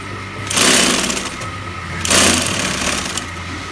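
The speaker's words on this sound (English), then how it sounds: "Right now he's just sewing the back and the front together." An industrial sewing machine in a Chinese factory stitches the back and front panels of a sportswear bag together, two loud bursts of rapid whirring stitching separated by a brief pause, with a steady low hum beneath.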